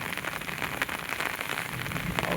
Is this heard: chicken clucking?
no